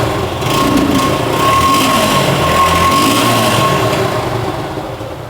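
A Suzuki Gixxer Naked carburetted disc-brake motorcycle idles steadily just after starting, a close, even engine hum holding for several seconds before easing slightly, with no talking.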